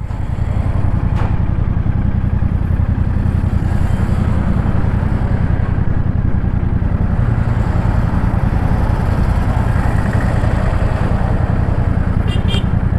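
A 2025 Royal Enfield Interceptor Bear 650 scrambler motorcycle engine drones loud and close in a continuous low rumble, holding steady the whole time with no voices and a few faint high clicks near the end.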